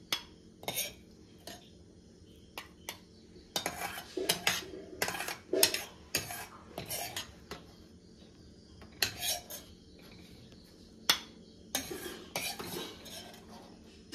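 Metal utensils scrape and clink against a pan and mixer jar as cooked tomato for a soup is transferred, a series of sharp, close, irregular clatters separated by quiet gaps.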